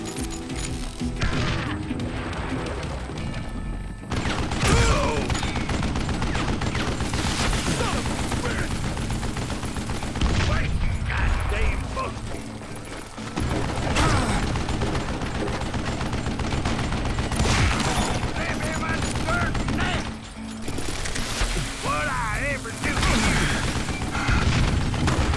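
Gunfire from the Western shooter Call of Juarez: Gunslinger, with repeated loud shots and bursts of rapid fire mixed with booms and crashes, a dense, continuous barrage broken by two short lulls.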